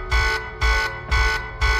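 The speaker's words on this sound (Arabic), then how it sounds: "لو كنت في غواصه وسمعت صوت الانذار ده" Submarine alarm blaring in four loud harsh bursts, evenly spaced with short gaps, close and alone.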